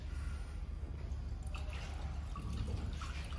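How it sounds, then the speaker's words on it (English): Water poured into the tank of a handheld fiber laser welding machine, a faint, steady trickling and dripping stream, heard alone at low level. "So how can we add the water to water can?"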